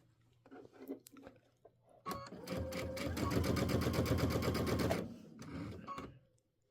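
A sewing machine with the presser foot down and auto lift on first makes a few short locking stitches as separate clicks, then runs for about three seconds of loud, rapid stitching on a patchwork flag block before slowing to a stop with light clatter.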